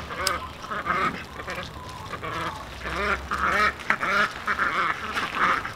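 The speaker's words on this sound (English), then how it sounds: "Ducks know it's time to get inside there." Ducks quack repeatedly in loose, overlapping bursts, fairly close, with a low background hum beneath them.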